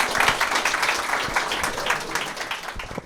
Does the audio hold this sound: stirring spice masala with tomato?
no